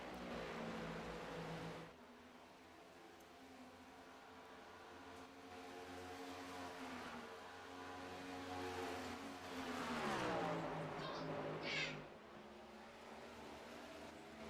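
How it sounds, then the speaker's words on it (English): A steady engine drone with layered harmonic tones, shifting pitch and briefly revving higher before settling, a NASCAR Next Gen race car downshifting in a racing video game. "I just heard David Davis downshift"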